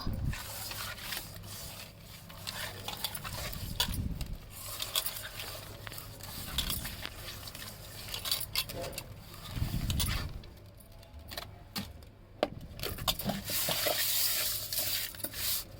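Fish pieces are rubbed with salt and washed by hand, giving wet squelching, rubbing and splashing sounds in irregular bursts with occasional clinks of a bowl, fairly close and soft.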